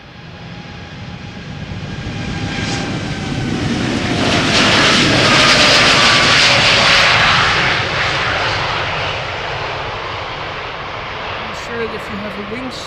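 A passenger airplane takes off at Schiphol Airport, its broad engine roar swelling steadily to a loud peak midway and then slowly fading as it climbs away, with a voice talking over it throughout.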